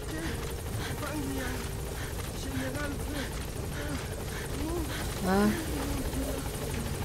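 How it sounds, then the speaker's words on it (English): A steady helicopter rotor drone thrums in the background of the video game Metal Gear Solid V: The Phantom Pain as a support helicopter arrives at base, while voices talk over it, with a brief louder swell near the end. "Support helicopter has arrived."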